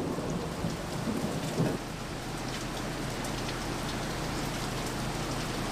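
Steady heavy rain hisses over a thunderstorm, with a low rolling rumble of thunder early on before the downpour continues alone, recorded outdoors on a police bodycam.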